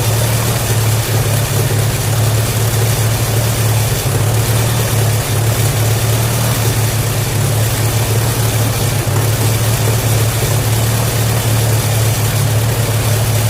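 A 1938 Allis Chalmers B tractor engine idles steadily with a deep, low rumbling throb, loud and close, running on without a break and no voices.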